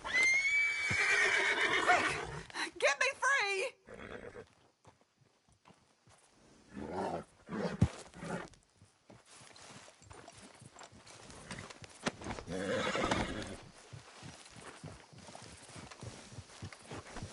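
A horse whinnies in Red Dead Redemption 2, opening with a loud, shrill neigh followed by snorting and clip-clopping hooves, then softer movement and scattered later sounds.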